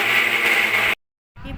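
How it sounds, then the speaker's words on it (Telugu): A mixer grinder whirs loudly and steadily, blending peanut, sesame, coconut, cardamom powder and jaggery, then stops abruptly for a brief silence before starting again. "మిక్సీ చేసుకోవాలి మెత్తగా."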